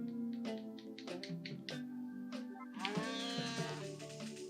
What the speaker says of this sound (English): I was trying to check on the mother cow.